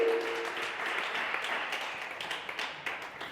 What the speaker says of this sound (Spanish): Puedes darle un aplauso al Señor